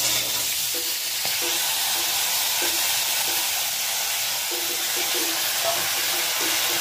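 Vegetables hiss and sizzle steadily in hot oil in a frying pan with already-fried fish bones, a continuous close frying sound with occasional light clinks of a utensil.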